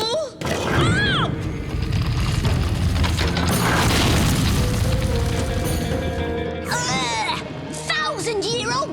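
Old cannons fire in a cartoon: a loud, continuous barrage of booms and crashes fills the scene, with shouting voices and whistling streaks layered on top.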